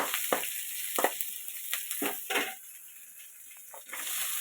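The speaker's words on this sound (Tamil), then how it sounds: "பச்சை மிளகாய் கொஞ்சம் வதக்கிட்டோம்னா உரப்பு அவ்வளோவா தெரியாது." Green chillies sautéing in a pan for a potato kurma, giving a steady close sizzle with a few sharp stirring scrapes and bursts of crackle.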